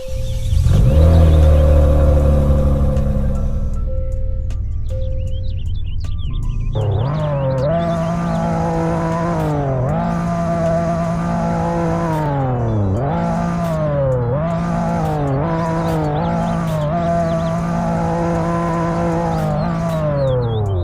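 A turbocharged 3.5-liter V6 car engine idles with a deep rumble, then revs repeatedly in sharp rising and falling bursts, loud and close, with no talking.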